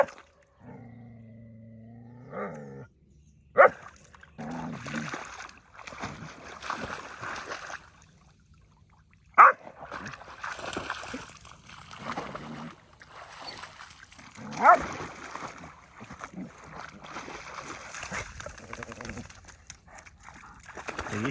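A dog barks repeatedly outdoors near a lake at an abandoned Native American ghost town, each sharp bark echoing back, with someone talking between the bursts and a soft whimper at the start.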